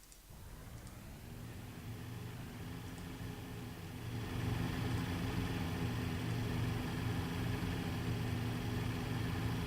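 An early horseless car engine in the Transport Fever video game, a steady droning idle with a low rumbling tone that swells louder after a few seconds and holds a continuous mechanical hum.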